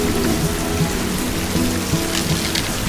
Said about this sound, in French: La pluie a tombé.